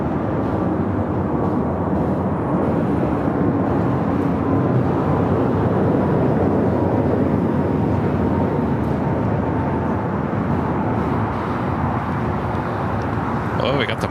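A heavy jet rumbles at LAX on the south side, a loud and continuous broadband roar that holds steady throughout, with a brief radio voice in the background.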